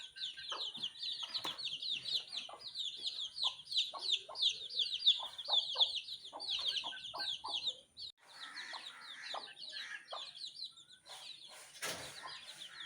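Chickens cluck steadily in a village yard, a dense run of repeated calls close by with occasional wing flaps and chirps, and no talk.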